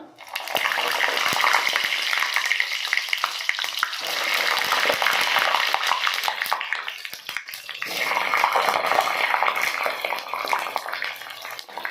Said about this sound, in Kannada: ಇದು ನಾವು ಬದನೆಕಾಯಿ ಹಾಕ್ಕೊಂಡು ಫ್ರೈ ಮಾಡ್ಕೊಳ್ಳೋಣ.